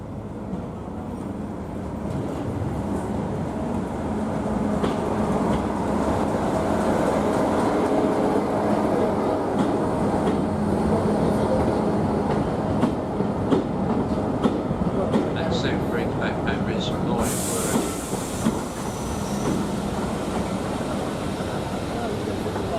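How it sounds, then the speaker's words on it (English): A diesel-electric multiple unit "thumper" train's diesel generator throbs steadily with a low rumbling drone and rail clatter, continuing throughout at moderate distance. "These were diesel electric multiple units known as thumpers because of the sound made by their diesel generators"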